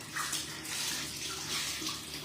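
Water running steadily from a tap or hose while dogs are bathed, a continuous close splashing rush that swells and eases slightly over a couple of seconds, with no talking.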